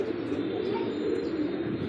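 Pigeons coo in a dense, low murmuring hum, several birds overlapping steadily nearby, with no talk.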